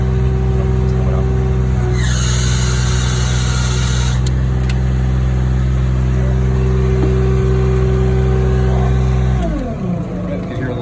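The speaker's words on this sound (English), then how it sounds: "killing the engine up there" The engine of a Spaulding crack sealing kettle runs loudly and steadily with a deep idling hum, briefly revving higher early on, then cutting off near the end.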